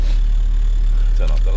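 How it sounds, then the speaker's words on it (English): A 1983 Mitsubishi Colt with a 1.4L engine runs just after starting, giving a steady low idling hum throughout, with a brief voice-like sound near the end. "The fact that she just cranked to life like that after putting in the battery is just insane."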